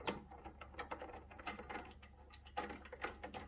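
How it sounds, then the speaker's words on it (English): Washers and nuts are threaded back onto bolts while reinstalling a Tesla tower, giving close, quiet, rapid metallic clicking and ratcheting in a steady run with no talking. "We just want to get these washers and nuts put back on."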